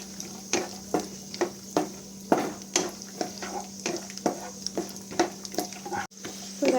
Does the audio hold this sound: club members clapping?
no